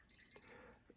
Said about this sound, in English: The zone corresponding to that door will beep.